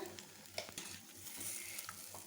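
Onions with turmeric and chili powder are stirred in a pan for a drumstick fry, producing faint scraping strokes and light clinks over a soft, quiet sizzle, with no speech.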